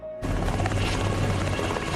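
A helicopter starts abruptly and keeps going, its rotor chopping steadily and loud, close by with a dense mechanical roar.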